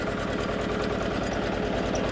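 A walk-behind power tiller's engine running on a road, throbbing in a steady, fast, even rhythm with a loud knocking mechanical pulse.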